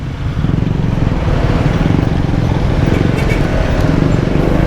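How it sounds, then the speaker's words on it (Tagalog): Heavy roadway traffic in Capas, Tarlac, a continuous loud engine drone of motorcycles and cars idling and creeping close by, with a steady rumble and faint higher whirs on top, no voices. "Guys, sobrang traffic ngayon dito sa Capas."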